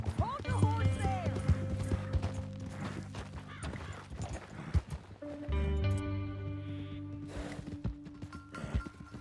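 Horse hooves clip-clop in Red Dead Redemption 2 as a steady run of close, rhythmic thuds continues under ongoing voices.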